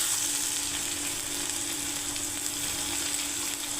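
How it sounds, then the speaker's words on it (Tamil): Curry leaves and crushed ginger and garlic fry in hot oil, producing a dense, even, close sizzle that crackles steadily without pause or talking. "கருவேப்பிலை, 1 ஸ்பூன் இஞ்சி பூண்டு நம்ம தட்டி வச்சது, இதை போட்டு நல்லா வதக்கிக்கலாம்."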